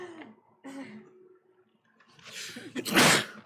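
Two brief vocal sounds, then a loud, sharp sneeze bursts out close by, ending with a breathy rush.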